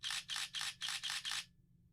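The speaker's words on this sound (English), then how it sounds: "when you press down the shutter button in that burst mode and you start taking photos, notice how many photos I'm able to take before the camera just stops" A Nikon D3400 DSLR shutter fires in continuous burst mode, six crisp, evenly spaced clicks at a quick rhythm, close and clear, then stopping abruptly into quiet room tone.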